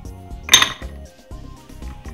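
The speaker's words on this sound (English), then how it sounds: "So I'm gonna just put some ice straight inside of my glass like this." Ice cubes drop into a drinking glass while Jamaican ginger beer is being made, giving one sharp clattering clink near the middle, heard over steady background music.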